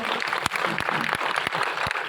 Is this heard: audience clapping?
yes